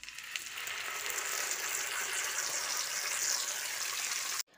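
Ginger, green chilli and tomato paste fry in hot oil, giving a steady, dense sizzle that holds evenly and then stops abruptly near the end.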